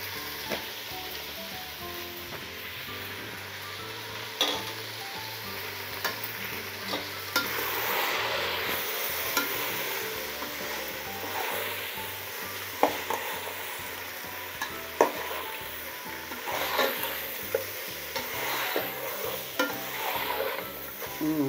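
Masala of chilli powder and ginger fries in oil for a mutton biryani, a steady sizzle with a spoon repeatedly scraping and clinking against the pot, close and without talk.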